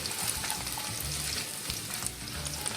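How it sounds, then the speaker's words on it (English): A teaspoon of grated ginger frying in a pan on low flame for rava upma, a continuous close sizzle with soft stirring scrapes underneath. "I'm going to add just a teaspoon of grated ginger. Just stir it around so it cooks"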